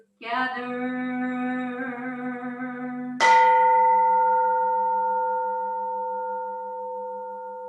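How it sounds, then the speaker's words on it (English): Two resonant Zen temple bell strikes: a ringing tone with rich overtones, then a brighter, louder strike whose pure hum lingers and slowly fades. "The sound of the temple bell booms for all to cease from"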